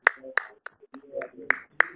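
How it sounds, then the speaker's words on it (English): Hand clapping sounds up close in sharp, uneven bursts, with a voice talking between and around the claps. "Are you clapping at me?"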